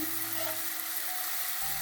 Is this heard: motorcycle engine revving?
no